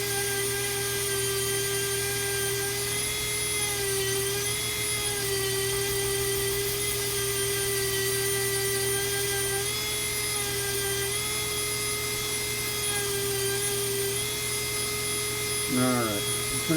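Dremel rotary tool grinding down a piece of wood to make it thin, a steady high-pitched whine held at a constant pitch with a strong buzzing drone underneath, loud and continuous throughout, with a brief rattling change near the end.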